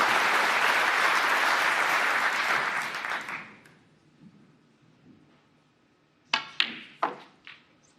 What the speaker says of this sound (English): Shaun Murphy is applauding him as well.